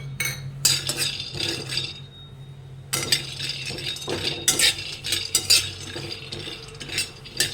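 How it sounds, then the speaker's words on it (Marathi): Peanuts dry roasting in a pan over low to medium heat rattle and clink as they are stirred, in irregular bursts of scraping and pinging with short pauses, close and clear, without speech. "शेंगदाणे लो मिडियम लो ते मिडियम जास्त भाजून घ्यायचे"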